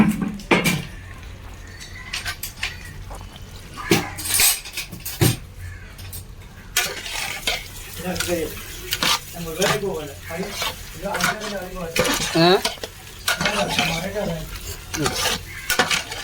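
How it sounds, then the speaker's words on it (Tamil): Chicken mixed with masala is stirred in a cooking pot for chicken biryani, with repeated scraping and clanking of a utensil against metal over a soft sizzle, in irregular bursts. "சிக்கனை போட்டு அந்த மசாலா கூட நல்லா மிக்ஸ் பண்ணிக்கிட்டே இருக்கணும். நல்லா கிண்டிக்கிட்டே இருக்கணும் இந்த மாதிரி"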